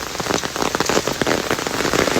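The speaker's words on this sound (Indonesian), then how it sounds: "Hujan-hujanan." Steady rain falls outdoors as a dense, even hiss of drops spattering on surfaces, close and fairly loud throughout with no voices.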